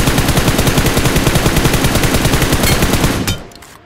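Rapid automatic gunfire in the BGMI battle royale game, a loud close burst of evenly spaced shots that runs for about three seconds and then stops abruptly.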